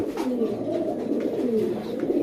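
A fully green-eyed female Giribaz high-flyer pigeon coos in repeated low, rolling, warbling phrases, loud and close, with no talk over it.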